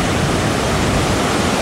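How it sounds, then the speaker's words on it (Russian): A continuous broad wash of crashing surf on a Phuket beach in stormy weather, loud and steady like heavy waves breaking. "Волна большая."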